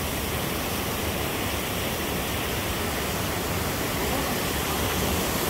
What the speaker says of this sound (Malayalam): വെള്ളച്ചാട്ടം ഇങ്ങനെ മോളിൽ നിന്നങ്ങ് അപ്പുറേന്ന് ഒഴുകി വരികയാണ്.